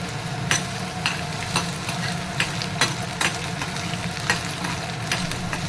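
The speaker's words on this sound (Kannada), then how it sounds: "ಇದನ್ನು ಹಾಕಿ ಒಂದು ಸ್ವಲ್ಪ ಚೆನ್ನಾಗಿ ಫ್ರೈ ಮಾಡ್ಕೊಂಡ್ಬಿಡ್ಬೇಕು." Mint leaves and chopped tomato fry in hot oil for a chutney, with a steady close sizzle broken by regular scraping clicks as the pan is stirred.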